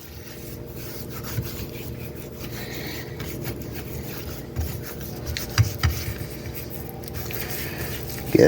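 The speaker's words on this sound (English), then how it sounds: "you just rub all that in, get it all rubbed in" Hands rub seasoning into food on a board, a soft continuous rasping and squishing rub that runs throughout at close range with a few firmer pats near the end.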